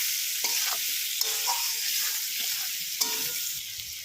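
A spoon stirs small fish curry with potatoes, okra, onion, chili, turmeric and salt in a pan, a continuous close sizzle broken by a few scraping strokes.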